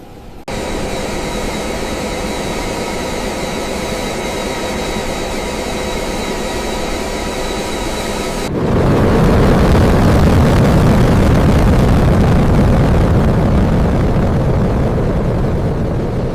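Antonov AN-124 jet engines spool up to takeoff power, a steady whining turbine drone that swells midway into a louder, deeper sustained roar close by.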